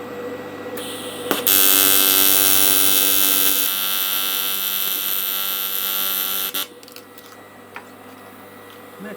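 A welder tack-welds a repair on a motorbike footpeg, giving one loud, steady electric buzz lasting about five seconds, preceded and followed by quieter workshop hum and small clicks.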